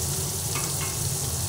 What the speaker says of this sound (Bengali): পেঁয়াজ আর টমেটো একটু ভেজে নিচ্ছি।